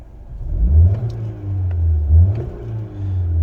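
A 2009 Ford Fiesta 1.25 Zetec petrol engine revs twice from idle, each throttle blip swelling into a smooth, close mid-pitched roar before settling back to a steady hum.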